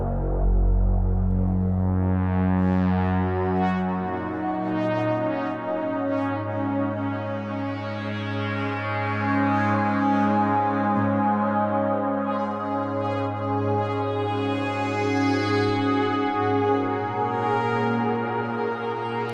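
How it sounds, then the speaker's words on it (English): A sustained Korg ARP 2600 plugin synth preset drones with rich harmonic tones, run through tape echo and reverb, swelling and shimmering into a lush atmospheric pad that holds for nearly twenty seconds without speech. "The tape echo is just lovely. In combination with the reverb, you can get some really beautiful atmospheres out of this patch."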